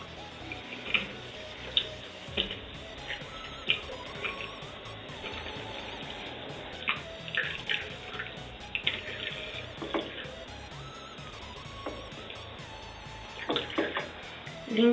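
Makeup brushes rinsed under a running tap, a steady thin trickle of water with scattered small clicks and splashes close by.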